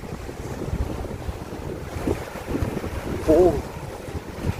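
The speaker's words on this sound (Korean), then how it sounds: "파도 소리, 도더튜브 파도 소리 ASMR 하도록 하겠습니다" Sea waves wash onto a Jeju Island beach on a cold early-March day, a steady broadband surf roar with heavy wind buffeting the microphone; a brief exclamation from a man cuts in near the end.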